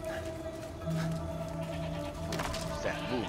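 A goat in the video game Far Cry 5 bleats nearby in a few wavering cries over a steady background hum.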